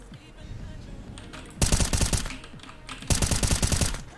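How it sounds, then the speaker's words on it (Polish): Two loud bursts of rapid automatic gunfire from a video game, each lasting about a second, over a low, steady background hum. "Co za strzały tu słychać?"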